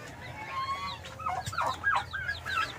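Hens and a brood of five chicks cluck and peep close by in a farmyard coop, high chirps and soft clucks tumbling over each other in quick irregular bursts against low background noise.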